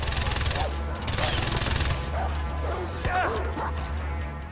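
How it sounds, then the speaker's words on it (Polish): A dog in the video game Far Cry 4 barks in loud bursts over dense game noise with rumbling low effects and gunfire-like crashes, the barking strongest in the first two seconds and thinning out later. "czy ja słyszałem szczekanie psa?"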